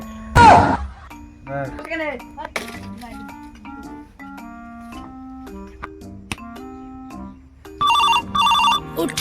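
Electronic phone ringtone tones chime in a melodic pattern, with a burst of ringing near the end, interspersed with short clicks and sounds.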